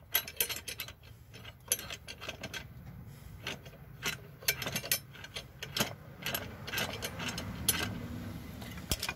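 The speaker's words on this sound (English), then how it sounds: "Now, tighten up the C-clamp until it gets tight." A C-clamp tightened against a brake caliper piston, using a metal plate made from household hinges, while removing a rotor on a Nissan NV or Titan: irregular close metallic ticks and creaks in uneven clusters, moderately loud, with no talking.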